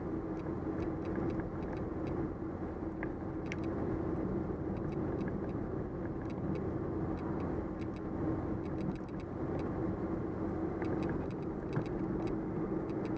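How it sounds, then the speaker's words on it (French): A Renault Super 5 running on ethanol rolls downhill in gear on engine braking, its steady low engine drone and road noise heard from inside the car, with faint intermittent ticking throughout. "je vais essayer de rouler le plus possible au frein moteur"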